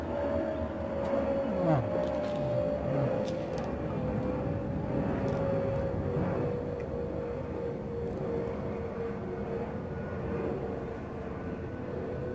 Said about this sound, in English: I'll just wait for this airplane to pass by.